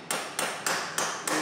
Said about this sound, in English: You can see I have a pretty small hammer.